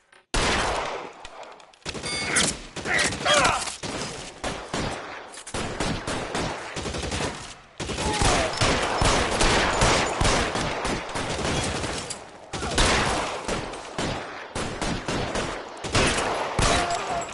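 Heavy gunfire in the video game L.A. Noire during a cover-fire shootout, long bursts of rapid automatic shots filling the clip with brief pauses between volleys, loud and close.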